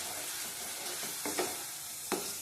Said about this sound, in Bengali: অল্প করে জল দেবো, আবার কষিয়ে নেবো একটু